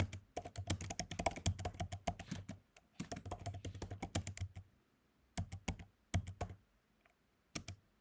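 Typing on a computer keyboard during a typing exercise, bursts of quick key taps separated by short pauses, close and clear with no talk.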